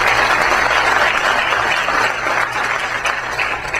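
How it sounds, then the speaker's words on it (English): Dense, steady applause fills a school board of education meeting, honoring a girls lacrosse student athlete; the clapping stays loud and even for about four seconds with no voices on top. "So a round of applause for her."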